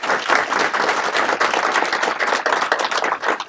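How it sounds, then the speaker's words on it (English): A crowd at a sheriff's office swearing-in ceremony applauds the staff, close, dense and vigorous clapping that stays steady for several seconds with no one speaking. "So please, a big round of applause for them."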